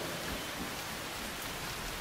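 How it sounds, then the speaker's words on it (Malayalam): Heavy rain pours in a dense, unbroken hiss of drops hitting surfaces, loud and close for a couple of seconds with no voices. "പിന്നീട് എങ്ങും തോരാത്ത മഴ"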